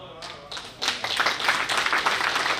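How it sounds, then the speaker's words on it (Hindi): Audience clapping at a direct selling distributor training session, building from sparse claps to a steady round of applause that fills the room for a few seconds. "ताली और कम बजी है"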